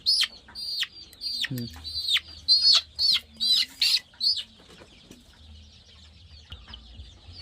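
Native chickens being vaccinated against fowl pox cluck and squawk in a series of sharp bursts close by, followed by quieter scattered calls and low background noise.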